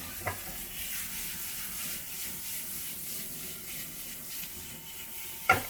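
Ground pork sizzles in a hot pan while being stirred, a continuous close hiss with scraping texture, bracketed by a light knock at the start and a sharper clatter at the end.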